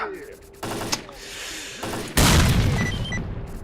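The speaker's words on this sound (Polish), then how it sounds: "I efektowna eksplozja." A video-game explosion in STALKER: Clear Sky hits as a sudden loud, broadband blast midway through, following earlier gunfire-like bursts, then rumbles on with sustained noise to the end.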